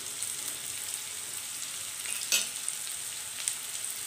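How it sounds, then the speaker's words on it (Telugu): Onions fry in a pan with green chillies, turmeric and ginger-garlic paste for chole masala curry, giving a soft continuous sizzle with a brief louder crackle midway and no voices. "ఉల్లిపాయలు కొంచెం వేగాలి"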